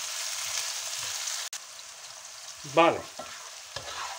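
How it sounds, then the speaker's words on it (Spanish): Chopped onion browning in a pan while being stirred for a pork and beer stew, a steady broadband sizzle that drops off partway, followed by a few scraping stir sounds and a brief spoken word. "Está dando vueltitas y está dorándose la cebolla"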